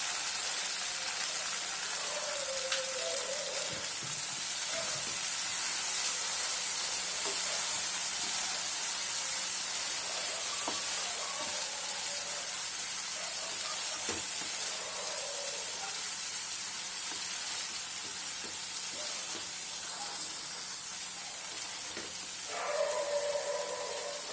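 Prawn ghee roast masala sautés in a pan with a steady, close hiss and sizzle, broken by a few faint utensil taps, with no one talking.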